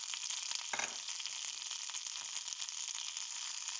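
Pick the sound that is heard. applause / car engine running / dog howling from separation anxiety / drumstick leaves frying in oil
drumstick leaves frying in oil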